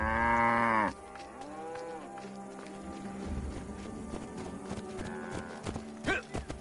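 Cattle lowing in Assassin's Creed Origins, set in ancient Egypt: one long, loud moo opens, then a quieter busy ambience with clopping and livestock sounds, and a fainter second call near the end.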